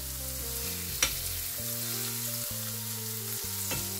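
Mushrooms and meat fry together in a pan with a steady, soft sizzle under a sustained tonal hum, with a couple of brief clinks from stirring.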